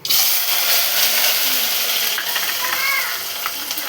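Cumin, mustard seeds and onion fry in two spoons of hot oil with a steady, close sizzle and crackle, plus a few faint clinks near the end.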